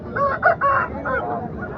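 A rooster crows nearby at a native chicken market in Mydukur, a loud, strained cock-a-doodle-doo lasting nearly two seconds over faint background noise.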